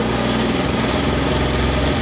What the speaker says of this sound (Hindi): तो ये मेरी बाइक एक किक में स्टार्ट हो गई है, 1-2 किक में